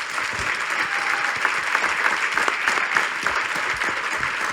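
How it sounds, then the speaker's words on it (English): A crowd at a Republican US Senate candidate forum applauds the candidates, a sustained dense round of clapping that stays loud and even throughout, with no speech over it. "let's give all of our candidates a good round of applause"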